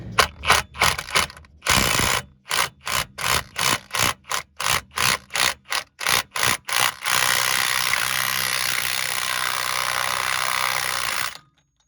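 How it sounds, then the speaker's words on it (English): A hand ratchet loosens the pinion flange nut on a Cadillac SRX with a quick series of close, sharp clicks, then switches to a steady, rapid ratcheting whir that runs for several seconds before stopping abruptly. "we're going to pull that nut out of there"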